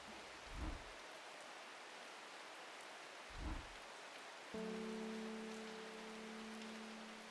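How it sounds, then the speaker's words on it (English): Steady soft rain hiss from the video game Strange Horticulture, with two low muffled thumps early on and a low sustained hum entering near the end. "Can you hear the raining and the cat purr?"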